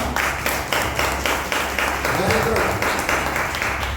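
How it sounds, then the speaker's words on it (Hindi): A congregation at a Sunday worship service claps loudly in a steady rhythmic beat, the regular claps running throughout with voices mixed in. "एक बार क्यों ना प्रभु के लिए जोर से ताली बजाएंगे हम लोग।"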